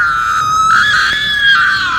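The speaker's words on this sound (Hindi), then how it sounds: "किसी लड़की के बहुत ज़ोरदार चीखने की आवाज़ आई" A girl's loud, sustained scream rings out for about two seconds in a horror story, piercing and continuous with no talking over it.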